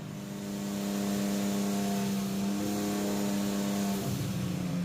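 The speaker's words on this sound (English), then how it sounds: "my eBay turbo whistling up for the first time" A BMW E36 engine with an eBay turbo kit holds a steady high rev on a dyno rolling road, with a thin turbo whistling whine riding over the loud, constant drone.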